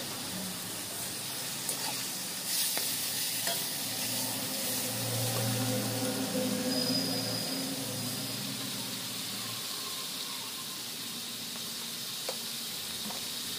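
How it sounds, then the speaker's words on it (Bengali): Chopped onions fry in fish oil in a pan with a steady soft sizzling hiss, close and fairly quiet, broken by a few faint clicks of stirring. "এবার এই তেলটা দিয়ে তেল সমেত পেঁয়াজ কুচিগুলোকে ভালো করে ভেজে নিতে হবে।"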